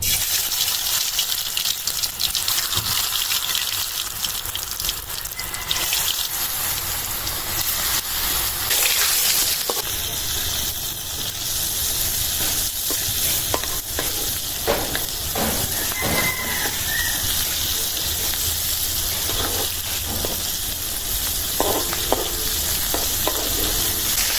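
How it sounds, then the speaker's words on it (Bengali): Fritters of green banana, potato and coconut frying in a pan of oil make a loud, dense, unbroken sizzle up close, with scattered pops and the scrape and tap of a utensil turning them. "বড়াটা আমি এখন ভেজে নেবো"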